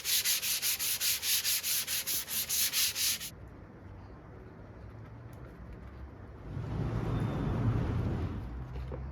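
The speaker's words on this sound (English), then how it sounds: "give a light sanding to this front fascia here so that looks nice and smart" Light sanding of the front fascia on a model railway layout, a rhythmic rubbing with about a dozen even, fairly loud strokes, followed by a lower, steadier scraping and brushing sound.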